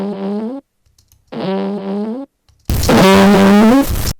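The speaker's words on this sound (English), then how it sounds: "If you haven't guessed it already, it's a fart" A raw, unprocessed fart sound played three times, each a low buzzy burst with a rippling, flapping harmonic stack; the first two are moderate and about a second long, the last louder, harsher and longer, with no talk.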